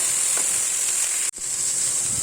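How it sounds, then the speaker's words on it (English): Carrots and celery sautéing in a pan give a steady, close sizzle with a faint hiss of steam, broken by one brief dip near the middle. "Let's just saute the carrots and celery for a few minutes before adding the other ingredients."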